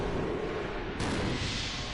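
A monster blown apart by an explosion in Resident Evil 0, Wesker Mode: a dense, loud burst of noise with a sharper second blast midway, filling the whole moment with no talk.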